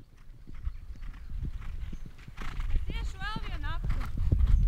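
Horses move with steady clip-clopping hooves, and one gives a clear whinny midway. The sounds run under continuous talking, with the hooves close and fairly quiet throughout.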